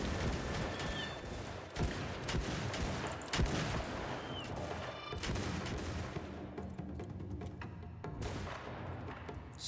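Dragoons fire guns in the Shokuho samurai strategy game, a dense, distant battle din of overlapping musket shots and crackling volleys over a constant roar, with a few sharper reports standing out.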